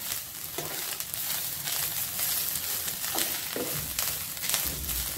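Grated coconut sizzles and crackles steadily in hot coconut oil for coconut rice, with a continuous close frying hiss and occasional soft stirring scrapes throughout.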